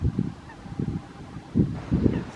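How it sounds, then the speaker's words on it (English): Canada geese on a park lake in winter, several loud, nasal honks close by arriving in short clustered bursts with brief gaps between, over faint outdoor ambience. "Canada geese"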